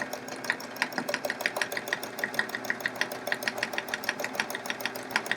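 A sewing machine runs steadily while stipple quilting a chevron quilt, its needle producing a fast, even rhythmic clatter of close, moderately quiet stitches with no talking.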